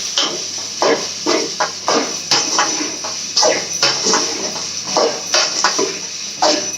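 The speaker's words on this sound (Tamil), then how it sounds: "காலிஃப்ளவரை கொட்டிக்கலாம்." Cauliflower tipped into a cooking pan for a cauliflower chicken gravy, making a run of repeated clattering, scraping bursts against the metal at close range with no talk.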